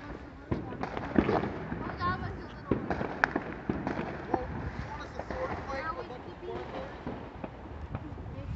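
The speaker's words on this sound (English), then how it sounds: "Blue Chip is blowing off a bunch of fireworks too" Fireworks set off in every direction during a family Fourth of July celebration, with repeated sharp pops and bangs near and far, heard under ongoing talk and crowd chatter.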